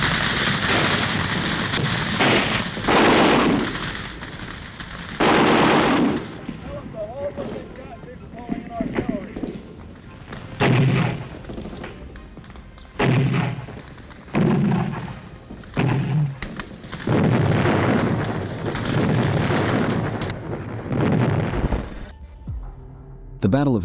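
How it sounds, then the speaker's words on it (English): Gunfire and explosions ring out in a Vietnam War roadside ambush on American vehicles, with repeated loud bursts and booming blasts in clusters, some heavy impacts standing out, and talk running through much of it. "The Battle of Apni was not limited to gunfire."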